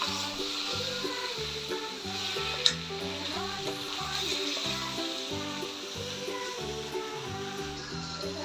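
Chicken fries in a pan with masala, sizzling steadily at close range while it is stirred and mixed, with faint background music.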